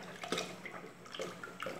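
Hot lye solution, 1 kg of caustic soda dissolved in water, poured into cold oil for alcohol soap, giving a few soft splashing drips and trickles in quick bursts, close and fairly quiet, with no talking.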